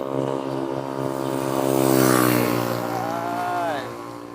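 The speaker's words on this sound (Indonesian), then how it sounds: "Tuh ada motor." A motorcycle on a quiet, well-paved road hums past. Its engine tone swells and then fades over a few seconds under steady wind and road noise.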